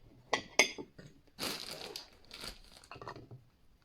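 Rye bread is handled and cut in half on a kitchen surface. Crisp crinkling, rustling and crunching come in short separate bursts, close and fairly quiet, with pauses in between.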